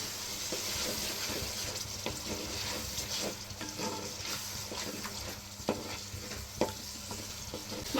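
Masala paste of ground coriander seeds, poppy seeds, cinnamon and cloves fries in a pan for Rajahmundry crab curry, a steady sizzle with stirring scrapes and a couple of sharper clinks, continuous and fairly close.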